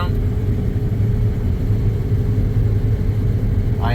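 A combine harvester runs in the field on the first pass of the harvest season, with flex mode engaged, and its engine gives a loud, steady low rumble throughout.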